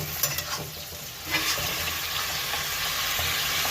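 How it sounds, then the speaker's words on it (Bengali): Fried eggplant and spinach get stirred in a hot pan, with a few scrapes and knocks at first, then a dense, loud, continuous sizzle close by. "একটু ভালোভাবে উপর নিচে করে নাড়াচাড়া করে"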